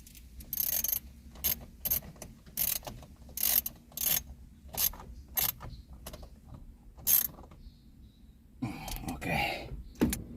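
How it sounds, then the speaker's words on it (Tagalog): A ratchet drives two side screws back into the center panel of a Honda Jazz GD during a makeover, giving repeated short bursts of crisp clicking close by, with a brief rustling scrape at the end. "Then balik na natin yung dalawang tornilyo na tinanggal natin sa side."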